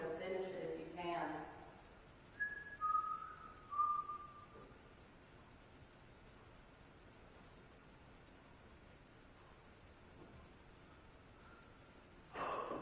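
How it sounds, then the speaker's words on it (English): A person whistles a short tune of a few rising and sliding notes during a paranormal investigation, faint and somewhat distant over a steady hiss, with voices briefly heard before it. "I'm gonna whistle a tune and I want you to finish it if you can."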